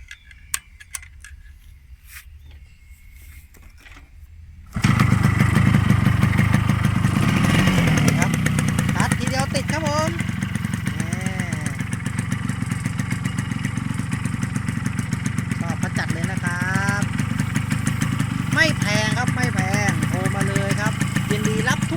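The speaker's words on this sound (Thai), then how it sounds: "เดี๋ยวเรามาฟังเสียงเครื่องกันนะครับ" A Yamaha RXS motorcycle starts after a few seconds of near silence with faint clicks, then idles in a steady, close, loud burbling rhythm that runs to the end, with someone speaking briefly over it.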